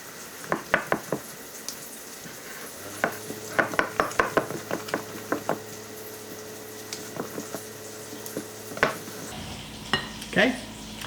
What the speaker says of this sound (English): and then we'll give that a good mix.